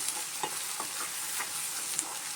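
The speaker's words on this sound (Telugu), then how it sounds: "మసాలా ముద్దలు ఎలా వేయించుకోవాలి" Masala paste for shark fish curry fries and is stirred in a pan, a steady close sizzle with soft scraping strokes throughout and no voices.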